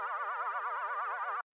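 A minimal house background synth pad run through full-depth vibrato at 8.5 hertz, its pitch wobbling quickly and evenly throughout a steady, loud sustained tone that stops sharply after about a second and a half.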